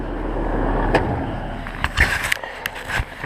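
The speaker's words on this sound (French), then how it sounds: "on va laisser passer la voiture" A car passes on a snow-covered road, heard from a bicycle commute: a faint, brief swish of tyres with a few light clicks and knocks nearby.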